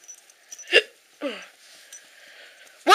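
Several sharp, abrupt hiccups, each a short gulping burst with silent gaps between, plus a louder one cut off at the end; no talking.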